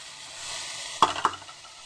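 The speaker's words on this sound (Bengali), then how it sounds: "এবার ভালোভাবে নেড়ে নেব আর একটু ভেজে নেব টমেটোটা নরম হওয়া পর্যন্ত।" Tomatoes fry in a pan for a potato and bean curry, giving a soft, steady sizzle. Two quick scrapes and clinks from a stirring spoon cut through the sizzle about a second in.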